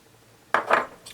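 Tuna and potato fritter mixture being stirred quickly with breadcrumbs in a bowl, two short scraping, clattering bursts of utensil against dish, close and fairly loud with quiet between.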